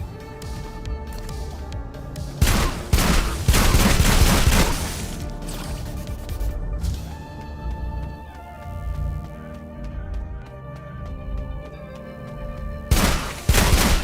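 Gunfire in the first-person shooter Sulfur, loud bursts of rapid shots in two heavy barrages with lighter scattered shooting and game music between, heard alone without talking.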